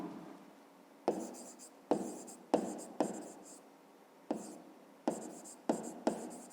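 Pen or pencil writing by hand during a fifth-grade maths exercise, heard as a series of about eight short scratchy strokes in quick bursts, close and fairly quiet, with no talking.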